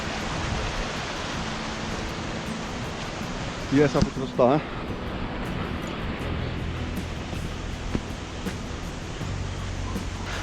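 A mountain stream on the Gaumukh trek near Gangotri, Uttarakhand, rushes in a steady, dense wash of water noise throughout, with someone speaking briefly over it.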